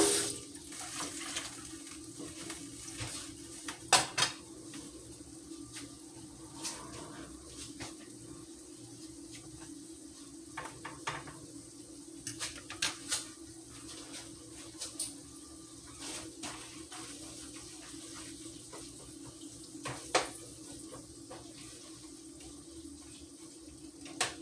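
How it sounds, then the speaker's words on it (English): A kitchen tap runs steadily while a plate is rinsed beneath it, producing a continuous faint water hiss with occasional light clinks and splashes. "Let me rinse my plate out."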